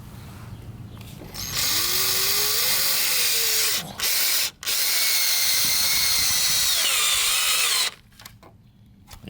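A power drill with a Torx bit drives exterior screws into pallet wood for a hot tub deck, whining loudly and steadily in two long bursts with a brief pause between, close and alone.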